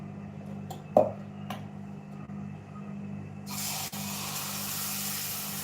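Mixed-lentil dosa batter on a lightly oiled pan: a low hum and a few soft knocks, then a steady sizzling hiss that rises about halfway through and continues faintly to the end.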